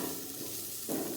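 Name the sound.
stirring bitter gourd fry with added coriander in pan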